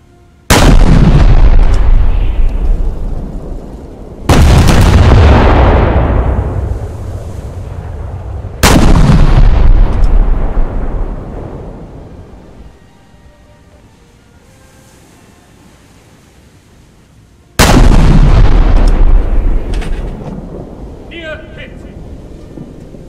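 Heavy naval shells from the Italian battleship RN Pola strike in War Thunder, four loud booming impacts spaced a few seconds apart, each with a long rumbling decay, the third fading into near quiet before the last.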